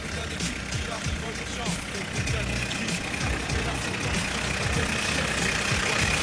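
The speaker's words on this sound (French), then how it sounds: "Vous pouvez couper le moteur, là?" A car engine idles with a low, steady rumble close by during a roadside police check at night, voices talking faintly over it.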